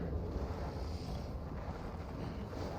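Wind blows before a storm in Assassin's Creed Valhalla, a steady low rushing roar that fills the whole clip with no talking.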